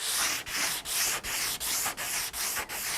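Steady back-and-forth strokes of 180-grit sandpaper on the hail-damaged metal roof of a 1990s Honda Accord EX in a crosshatch pattern; close, loud and rhythmic, about eight even passes with short pauses between, no talking.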